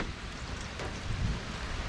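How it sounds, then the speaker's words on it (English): Steady rain falls outside as a soft, even hiss with a faint low rumble, distant and continuous with no voices. "It's raining outside really good."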